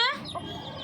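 A chicken gives a short, bright call that trails into quieter clucking close by, with faint background fowl chatter.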